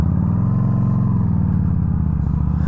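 Yamaha V Star 1300 motorcycle running steadily on a ride, a loud, close, continuous low engine rumble with regular firing pulses and no talk.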